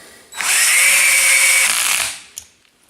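A power tool drives the final bolt of a motor installation in one continuous, loud, close whir of about two seconds, starting abruptly, then winding down, followed by a brief click.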